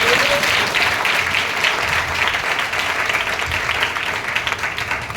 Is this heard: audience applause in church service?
yes